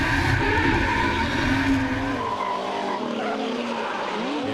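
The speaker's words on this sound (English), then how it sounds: "Just listen to this 2J scream on the in-cars." A drift car's 2JZ engine screams at high revs from inside the car, with tires squealing and skidding as it drifts at Sydney Motorsport Park, loud and continuous.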